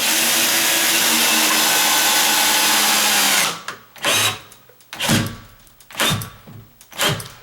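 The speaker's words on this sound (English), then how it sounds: "Stick your drill on low." A cordless drill set to low speed drives a screw into the jamb of a sagging double door: a steady high-pitched whine for about three seconds, then several short separate bursts as the screw is snugged in.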